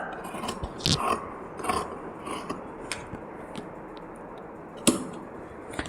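Scissors cut through churidar fabric in several sharp, crisp snips spaced irregularly, close and fairly quiet, with faint rustling between the cuts.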